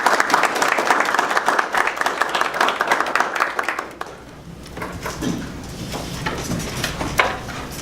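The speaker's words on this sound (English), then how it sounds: "Can we give them a round of applause?" Round of applause from the room at a city council meeting, welcoming new staff: dense clapping for about four seconds, then fading to scattered claps and faint murmuring.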